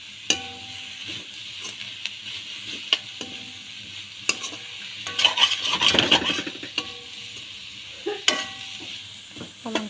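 Ginger leaves fry and sizzle in a pan while a utensil stirs and scrapes them, clinking against the metal at a steady pace, with a louder sizzling burst midway. No one speaks.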